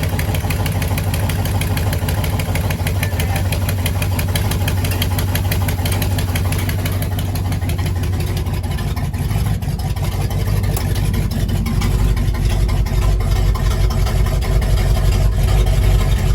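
A 1955 Buick engine runs loud and close in a steady rough idle, its rhythmic low chugging holding throughout and growing slightly heavier toward the end, with no talking.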